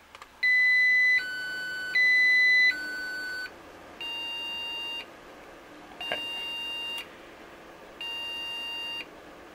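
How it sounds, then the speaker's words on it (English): A series of computer motherboard error beeps, long steady tones alternating between high and slightly lower pitches, repeating with short silent gaps in between. "I didn't even know this motherboard could do high-pitched beeps"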